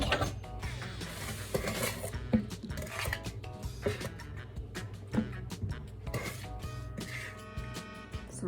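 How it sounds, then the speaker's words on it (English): Scraping and clinking of a spoon stirring eggs, oil and chocolate brownie batter in a bowl, an irregular run of close rubbing and tapping knocks with small gaps between strokes. "my helper here is stirring it in, stirring the eggs and stirring the oil and the ingredients"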